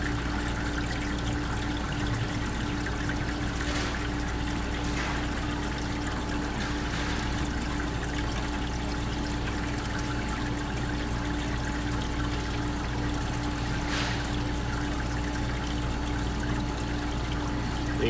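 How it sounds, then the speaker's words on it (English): Water flows over the grid of a running Howe ice machine, a steady close trickling wash over a constant mechanical hum that holds unchanged throughout, with no voices. "And there's the water flowing over the grid."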